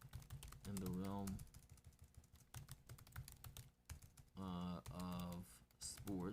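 Quick clicking keystrokes on a computer keyboard tap away steadily, interrupted by bursts of voiced sound over the typing.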